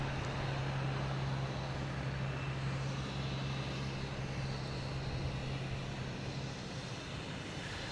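Steady broadband roar of a Cape Air plane at Boston Logan Airport, with a constant low engine drone that holds at even loudness and fades slightly near the end.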